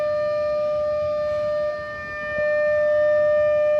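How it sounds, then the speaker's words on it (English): A commemorative civil defense siren sounds across Seoul on Korean Memorial Day, a steady, sustained tone holding loud and even throughout with a brief dip in the middle, with no voices. "In Seoul this year, at 10 a.m. there was a siren to commemorate the event"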